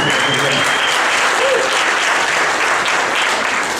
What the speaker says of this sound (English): let's just show them a round of applause